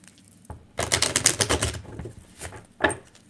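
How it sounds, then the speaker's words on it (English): A deck of tarot cards being shuffled, a dense riffling burst of papery flutter in the middle, with a short tap before it and another quick riffle near the end, close and fairly quiet. "I'm going to give this deck a little shuffle."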